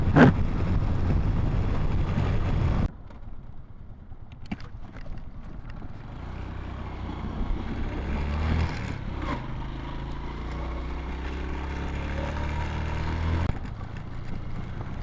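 Honda TMX 125 Alpha motorcycle climbing uphill toward the mountains, its engine droning loud and close with wind rush over the microphone, rising in pitch as it changes speed, no talk.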